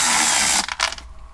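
A ratchet on an extension works at a dashboard bolt in a Mercedes CLK W209. A dense, loud burst of clicking runs for about half a second, then breaks into a few shorter, separate clicks.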